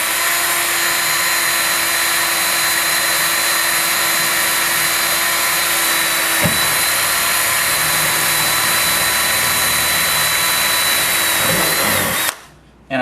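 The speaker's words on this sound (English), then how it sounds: "Okay, so now I'm just going to drill through this jamb." A power drill bores through a steel door jamb with a 3/32 drill bit, whining loud and steady for about twelve seconds before stopping abruptly.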